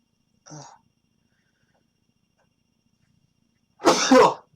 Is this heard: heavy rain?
no